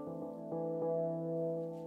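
A soft synth loop from BandLab sounds as a gentle sustained tonal chord with a few soft pulsed re-attacks, quiet and smooth with no voices.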